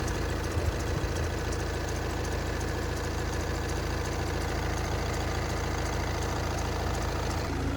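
A 2014 VW Passat TDI diesel engine idling while warming up, a steady low clattering rumble heard up close, unbroken and even for the whole stretch with no voices.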